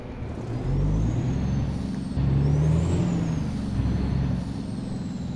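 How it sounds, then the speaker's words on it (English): A deep Caterpillar diesel engine in a custom Peterbilt 389 truck in American Truck Simulator rumbles steadily up close, its low drone swelling a little midway, with thin whining tones above. "I don't know if I like the sound of this Cat engine."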